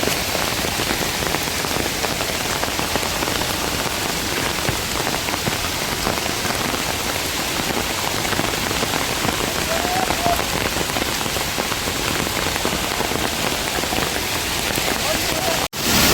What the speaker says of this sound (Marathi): अहो किती स्पीडने येतं पाणी मित्रांनो